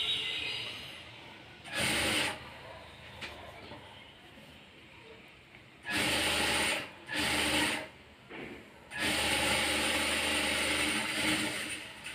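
Domestic sewing machine stitching a blouse sleeve seam, running in several loud bursts of steady mechanical whirring separated by quieter pauses, close by.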